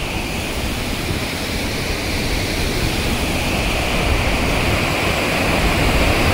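Randha waterfall at Bhandardara roars as a steady, dense, loud rush of falling water, broadband and unbroken, heard close with no voices.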